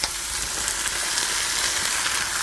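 Chuck roast sears in olive oil in a hot pan on the stove, a loud, steady, close sizzle and crackle that continues without a break and with no talking.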